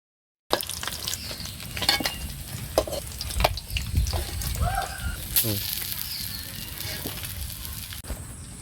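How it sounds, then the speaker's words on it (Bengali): Hilsa fish frying in a pan, a steady close sizzle with scraping stirs and spatula clatter, some indistinct voices faint underneath. "মাছ ভাজি হয়ে গেছে"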